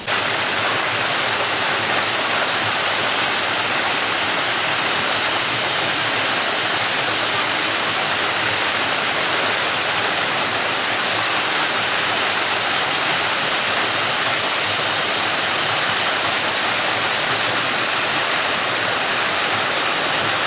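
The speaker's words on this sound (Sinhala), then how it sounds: "තට්ටු ඇල්ලේ තට්ටු තට්ටු වලින් ගල් ස්ටෙප් වලින් වතුර වැටෙන හින්දා තට්ටු ඇල්ල කියලා තියෙනවා" Thattu Ella waterfall in Sri Lanka, water cascading down rock steps, a loud, unbroken roar of rushing water filling the whole span with no voices.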